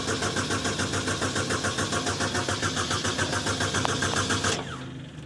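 A diesel engine on equipment at a Chinese auction cranks with a rapid, regular chugging, catches and runs as the throttle is opened, then cuts off abruptly near the end; loud and close, with no talk.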